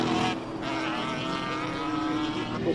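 A BMW M3 race car drives at the Simola hillclimb, its engine giving a loud, sustained, throaty roar that holds steady throughout.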